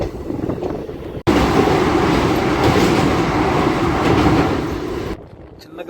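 Raptisagar Superfast Express, the Gorakhpur–Thiruvananthapuram train, passing close by as a loud, steady roar of rolling wheels and rushing air that cuts in sharply and drops away near the end, with a voice briefly audible.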